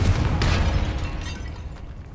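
A Confringo explosion spell goes off in Hogwarts Legacy as a loud, rumbling blast that fades away gradually over about two seconds.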